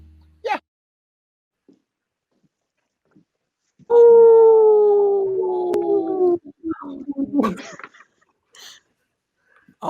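A person imitates a howl, one long wavering vocal howl that slides downward and trails off, loud and close, followed by a few shorter vocal bits and brief sounds around it.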